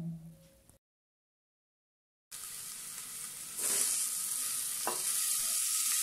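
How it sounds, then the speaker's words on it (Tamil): Mutton biryani masala being sautéed with salt in a pan for a Muslim wedding-style biryani, giving a steady close sizzle and frying hiss after a brief silence, with a few stirring scrapes. "தேவையான சால்ட்டும் ஆட் பண்ணிட்டு நல்லா வதக்கி விட்டுறலாம்."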